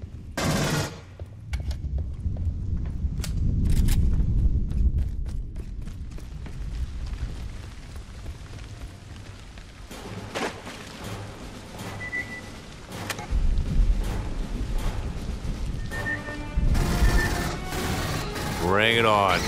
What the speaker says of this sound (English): Now it's about to go down. Hudson's pulse rifle.